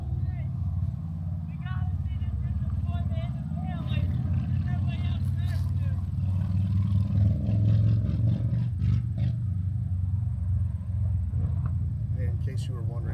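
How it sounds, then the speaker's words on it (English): Motorcycles pass along a street near a national cemetery at Gettysburg, their engines giving a loud, continuous low roar that swells and fades as they go by. "Yelling from the street. Motorcycles going by."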